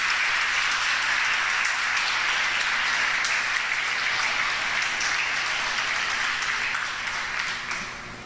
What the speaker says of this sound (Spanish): denle un aplauso al Señor por su vida